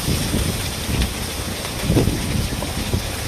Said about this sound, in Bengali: বাইরে আর খুব হাওয়া